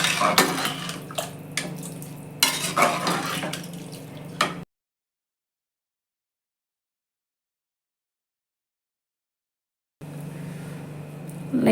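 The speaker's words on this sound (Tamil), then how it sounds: "அதுக்கு வந்து நான் 3 டம்ளர் தண்ணி சேர்க்குறேன்." Water is poured into a pot while making rice upma, three tumblers' worth in splashing, gurgling bursts, up close, broken by a stretch of complete silence before the pouring resumes.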